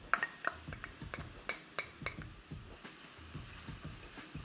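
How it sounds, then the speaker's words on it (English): Grated fresh garlic stirred into onions frying in a pan, with a steady soft sizzle and scattered light scrapes and clinks of a utensil against the pan, close by and without talk. "When your onions look a little bit like this, you can stir in your garlic."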